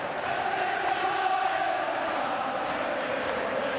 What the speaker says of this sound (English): now the Celtic crowd are taking over in the background